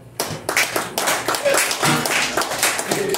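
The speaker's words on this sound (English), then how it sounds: "give Kathy with a K a big round of applause" A comedy club audience breaks into loud applause for a performer named Kathy, a dense burst of clapping that swells and carries on for a few seconds with some vocal noise mixed in.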